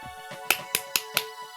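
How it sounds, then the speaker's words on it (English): Four sharp hand claps come at an even, quick pace over soft background music in a children's vocabulary lesson. "clap your hands"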